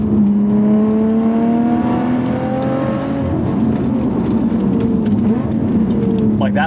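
Engine of a 2020 Lotus Evora GT rising and falling in pitch as it is revved through a double-clutch heel-toe downshift, loud and close and continuous, with a voice speaking over it.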